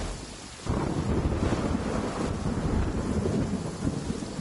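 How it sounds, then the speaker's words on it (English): Rain and rolling thunder in Genshin Impact's Sumeru region, a steady wash of rainfall with a deep rumble swelling in after a brief quieter moment, with no voices. "That's the cozy rain sound"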